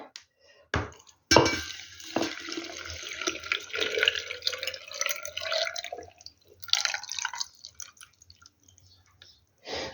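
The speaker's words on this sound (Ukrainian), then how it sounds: "зараз наповню всі баночки водою" Water pours in short, uneven bursts into glass jars for pickling cucumbers, with splashing and an occasional light clink between pours.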